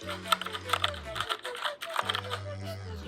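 Keystrokes from a Keychron K6 mechanical keyboard with brown switches, a quick run of clicky taps in irregular rhythm, close and fairly loud, over a steady low hum.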